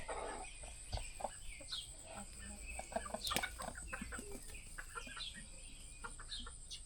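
A rooster and a hen near a peacock make soft clucks and short calls in a repeated, uneven series, fairly faint and close, with a louder squawk partway through.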